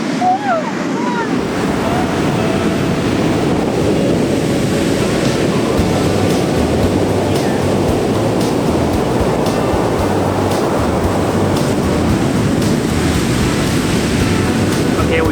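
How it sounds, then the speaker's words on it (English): Loud, continuous surf roar of waves breaking on Reynisfjara Black Sand Beach, Iceland, mixed with heavy wind rumble on the microphone, steady throughout with no pauses. "Sorry, the waves got us."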